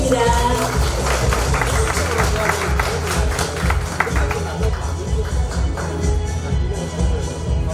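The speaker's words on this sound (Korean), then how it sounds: "여러분 큰 박수 부탁드립니다." An audience at an industrial complex award ceremony applauds, a dense run of claps that gradually thins toward the end, with some room hum underneath.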